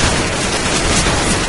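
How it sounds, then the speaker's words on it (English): A shotgun firing in CS:GO, a loud, harsh blast of gunfire filling the whole brief moment with dense, crackling noise. "Oh, it's this terrible shotgun."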